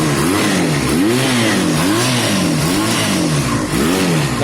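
A rebuilt bobber motorcycle engine revs steadily and loudly up close, with rhythmic rising and falling pitch sweeps as the throttle is blipped over and over, and no talking.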